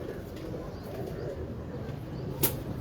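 A Sialkoti pigeon coos softly in a low, murmuring rumble over a steady background, with one brief sharp sound near the end.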